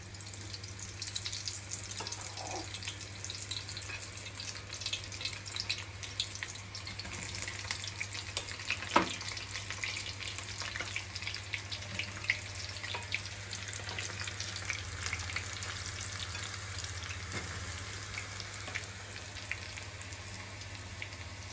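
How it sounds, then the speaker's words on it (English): Potatoes deep-frying in hot oil for honey chilli potato, a soft, continuous bubbling sizzle with light crackles running evenly and unattended for about twenty seconds, no speech. "So now we will fry a little."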